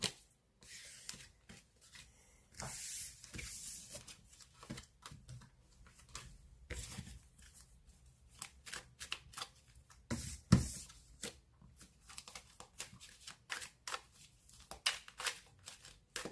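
Oracle cards are shuffled and gathered up in quick, close, crisp rustles and papery flicks, in uneven bursts with brief pauses and a few sharper snaps.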